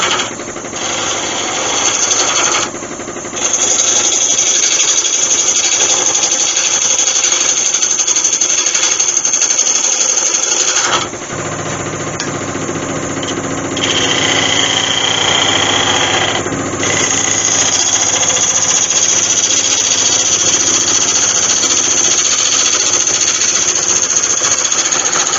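Wood lathe tool cutting a taper on a red cedar goblet, a continuous loud scraping whir with shifting tone and brief changes in intensity as the cut moves, no talking.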